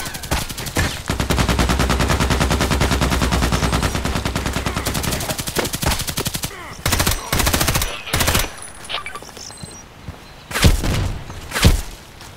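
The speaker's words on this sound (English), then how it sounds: "I feel it is very, very fast shooting." A Sig Sauer MPX submachine gun fires in the shooter game Contract Wars, loud sustained full-auto bursts for several seconds followed by shorter volleys and isolated shots.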